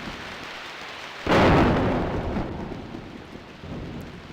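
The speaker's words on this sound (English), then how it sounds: "Gee, that's loud thunder." Thunder and rain in the video game DreamWeb: a sudden loud thunderclap that rolls and slowly fades over a steady hiss of falling rain.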